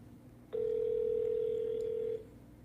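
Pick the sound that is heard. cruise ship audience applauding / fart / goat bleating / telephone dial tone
telephone dial tone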